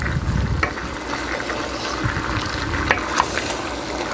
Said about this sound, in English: And now try to mix as much as you can. Put as much meat on the bottom as possible.